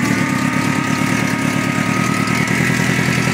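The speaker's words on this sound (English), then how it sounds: "I'll try and start it up." Cold engine of a golf cart burnout machine, choke under the seat: a loud, close, steady pulsing idle running throughout, with no talk.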